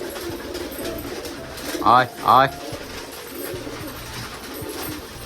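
Pigeons coo in low, rolling calls from a perch above, close by, while a person's voice breaks in briefly with a loud call midway.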